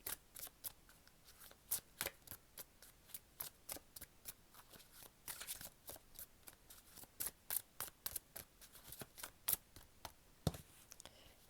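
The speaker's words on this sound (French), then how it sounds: "je vais vous tirer une petite carte de la libération énergétique pour vous" Tarot-style cards being shuffled and drawn, with a rapid run of crisp riffling clicks and flicks repeating steadily throughout, close but soft, with no talk.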